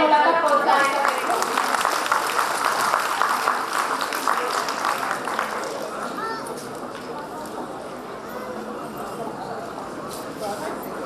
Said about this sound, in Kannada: ಚಪ್ಪಾಳೆ ಮೂಲಕ ಪ್ರೋತ್ಸಾಹಿಸಬೇಕು